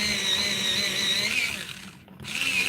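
A colored pencil being ground in a sharpener gives a steady, close whirring rasp that runs almost without a break, dips briefly for a moment and then starts again. No one talks over it.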